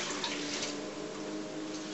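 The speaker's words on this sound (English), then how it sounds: "the crusty pot we're going to go ahead and dump out in the sink" Dishwater from a crusty pot pours steadily into a kitchen sink, a continuous close splashing rush with no break across the short clip.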